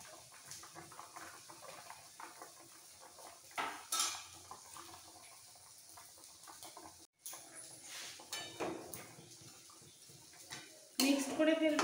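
Fried cauliflower and fish being mixed into a simmering rohu curry with potato and radish, with scattered metal spoon knocks and clatter against the pot and faint background voices between quiet gaps.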